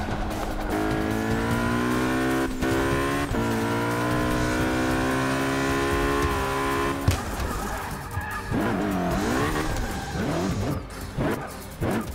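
A damaged race car engine in Forza Motorsport 6 drones loudly with a strained, wavering pitch, tires squealing and skidding as the tone shifts and stutters, with no voice over it.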